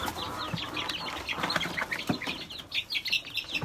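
Young Leghorn chickens in a small coop cluck and chirp repeatedly, a busy overlapping chorus of short high calls heard up close.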